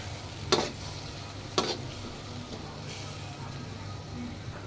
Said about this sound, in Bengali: সব দিয়ে দিয়ে নেড়ে ভালো করে কষাতে দিব